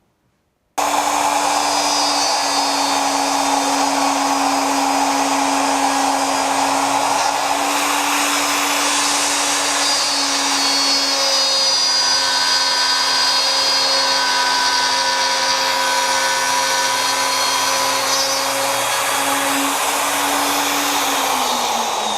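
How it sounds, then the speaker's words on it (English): Plunge router cutting a mortise into a wooden table leg, a loud, steady high-pitched whine with a slight pitch drop near the end, running continuously up close with no voices. "So now what I'll do is I'll plunge down another 1/4, make another pass, and keep going until I get to 1 inch deep."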